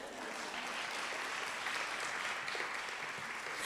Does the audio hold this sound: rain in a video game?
no